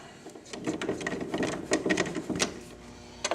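A 13mm socket on a long extension works bolts out of a Victory Vision motorcycle trunk, giving a quick run of small metallic clicks and ratcheting ticks close by, faint and irregular.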